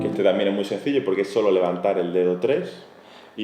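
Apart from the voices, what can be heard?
No everyday noise stands out behind the speech.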